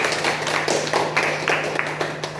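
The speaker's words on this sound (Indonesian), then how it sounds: "Beri tepuk tangan untuk teman-teman." A classroom of students clapping for classmates after a science lesson: fairly close, uneven claps from a small group, individual hand strikes standing out in a loose rhythm.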